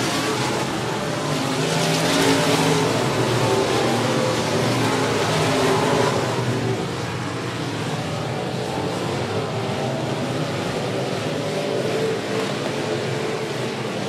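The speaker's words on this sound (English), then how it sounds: "Jason Downey got some kind of problem with his car." Stock cars race on the 105 Speedway short track during a Short Track Super Series event, with loud roaring engines passing in a continuous dense wash of noise.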